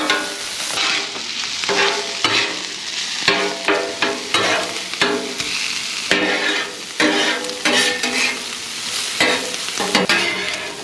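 Sausage sears and is stirred on a Blackstone griddle, a steady close sizzle broken by repeated scraping and turning strokes of a spatula, loud and continuous with no voices.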